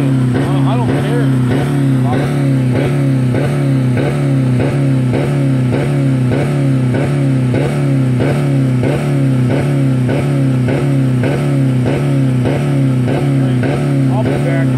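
A 2000 Dodge Neon engine held on the rev limiter with no oil or coolant, making a loud, close, continuous roar broken by rapid, regular stuttering cuts for the whole stretch.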